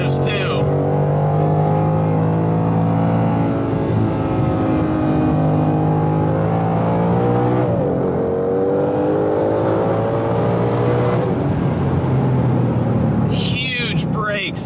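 A 2020 Ford Shelby GT500 with 760 horsepower roars loudly up through the revs from the cabin, its engine note rising and falling through downshifts, with talk over it.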